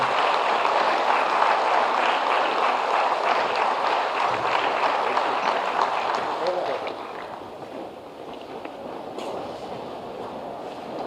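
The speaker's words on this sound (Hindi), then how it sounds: "सभी से अनुरोध करेंगे तालियों से स्वागत करेंगे।" Applause from a large crowd welcoming the Chief Minister at a public event in Chhapra, steady broad clapping for about seven seconds that then thins to a lower, continuing patter.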